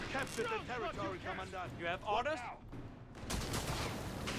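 Bursts of battlefield gunfire from the Company of Heroes 3 strategy game, a Wehrmacht versus US Forces match, crackle under a talking commentator, then swell into a dense, continuous fusillade once the voice pauses.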